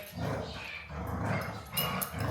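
Dogs growl and grumble continuously at close range, playing with a toy in a rumbling tussle with occasional yips.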